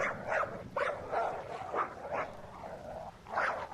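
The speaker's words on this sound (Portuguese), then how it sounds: "Os latidos eram de um cachorrinho que latia ao longe." A small dog barks in the distance, a run of about six or seven sharp yips spaced through the moment, faint against a low rumbling background with no voices.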